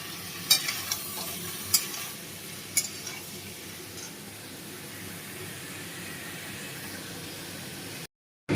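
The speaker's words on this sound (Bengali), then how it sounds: "এখন এটা ভাজাভাজি পর্ব চলছে" Chow mein noodles frying in a pan with butter and ground black pepper, a steady close sizzle punctuated by a few sharp scrapes and clinks of stirring early on.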